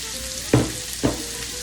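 Vegetables and jalapenos fry in a pan for chili. A steady close sizzle is broken by two short scraping stirs.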